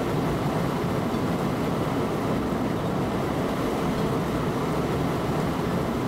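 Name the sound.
train running, from video game Train Simulator 2017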